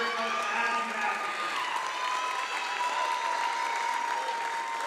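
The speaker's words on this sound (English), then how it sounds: "let's please give a big round of applause for the successful career of Abby Matheson" A crowd in a high school gym applauds steadily to honor a basketball player's career at a state tournament game, with some cheering and shouts mixed into the sustained clapping.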